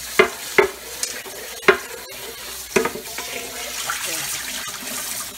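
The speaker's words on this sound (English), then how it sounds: "So now I'm gonna take my pot. Rinse all that goodness out of it." A cooking pot is rinsed out with running water, with several sharp clanks and knocks near the start, then a steady splashing wash that continues to the end.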